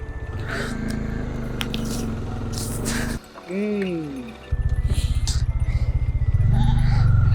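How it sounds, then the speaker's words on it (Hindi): Several sheep bleat in wavering, rising-and-falling calls amid a loud idling motorbike engine on a village road in India, with people talking nearby. "भेड़ें इतनी सारी"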